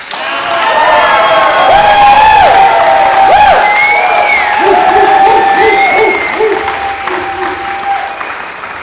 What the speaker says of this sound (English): one more massive round of applause for this awesome cast